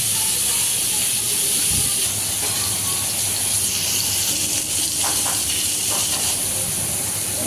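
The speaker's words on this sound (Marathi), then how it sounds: "गॅस थोडा मंद गतीवर ठेवून द्यायचा त्याची फ्लेम, जेणेकरून पॉपलेट आपली प्रॉपरली फ्राय होईल" Pomfret fish frying in a pan over a low gas flame, a steady bright sizzle and hiss filling the background while someone talks over it.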